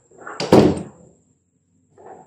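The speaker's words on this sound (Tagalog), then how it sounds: "sinarado kong muli ang mga pintuan para lumabas na ng lugar" Doors in an abandoned building are pushed shut, a loud close thud with a rattling scrape, then a quieter second knock a moment later after silence.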